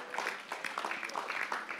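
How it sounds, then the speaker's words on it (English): A church congregation claps together during a service, a brief spread of scattered handclaps heard at moderate level with no speech over it. "Let's give God a clap offering"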